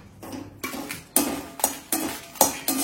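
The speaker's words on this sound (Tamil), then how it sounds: "இதை எடுத்துட்டு அதே வானிலையில இந்த மிளகாவை லேசா வறுத்துக்கணும்." Chillies being lightly dry-roasted in a pan, heard as a series of about six sharp scraping clinks of a spatula against metal in a fairly even rhythm, close and clear, with no talking.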